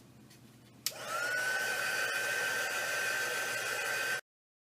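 A heat tool clicks on and blows a steady whooshing hiss with a faint high whine as it dries rust paste on an art journal collage, running close and loud for about three seconds before cutting off.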